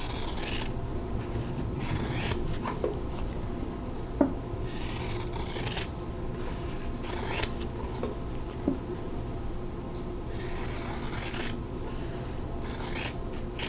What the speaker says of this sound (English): we're just going to cut here on the drawn line